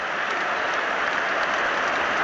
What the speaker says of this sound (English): getting a warm round of applause, as you can hear around this stadium